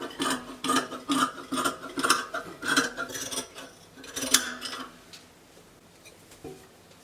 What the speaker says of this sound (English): Cutting out the back armhole.